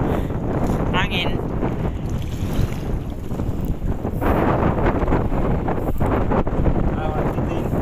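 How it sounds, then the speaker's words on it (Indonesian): Wind gusting across open sea around a small fishing boat, a constant loud rushing roar buffeting the microphone from start to finish, with voices briefly heard over it. "Angin."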